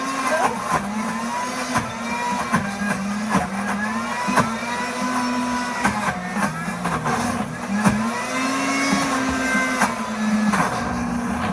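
A blender grinds peanuts into peanut butter with a steady mid-pitched motor drone that rises and dips as the load shifts, broken by regular knocks of a tamper; the grinding stays loud and close throughout.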